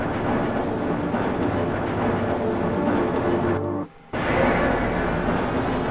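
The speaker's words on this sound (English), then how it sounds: "This train is inbound from level 3 dormitories to sector." Black Mesa tram ride in the Half-Life video game: a continuous rolling rail rumble with a steady high whine, briefly cut to near silence partway before resuming just as loud.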